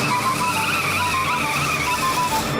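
A cartoon vehicle brakes and skids to a stop, its tires squealing loudly and steadily for the whole stretch, with a car engine running underneath and no talk.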